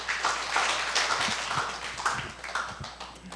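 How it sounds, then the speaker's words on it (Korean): Church audience at a regional church camp forum clapping in greeting, a moderate, steady patter of hands with no talk over it. "예, 박수로 안녕하겠습니다."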